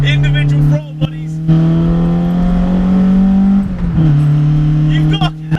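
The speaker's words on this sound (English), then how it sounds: "listen to them individual throttle bodies" Toyota Starlet SR with a swapped Corolla 4AGE engine on individual throttle bodies, making a loud, steady engine drone from inside the moving car that dips briefly around gear changes, with a voice talking over it.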